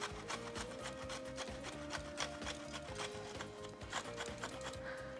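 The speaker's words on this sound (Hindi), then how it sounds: "सो ग्रेटेड अदरक" Fresh ginger is rubbed against a grater for tea, making a quiet, steady rhythm of rasping back-and-forth strokes close at hand.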